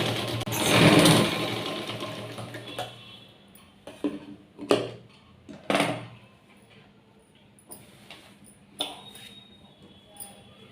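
A sewing machine stitching fabric runs in short separate bursts, its needle whirring and clicking between quiet gaps, with a louder rustling handling noise near the start.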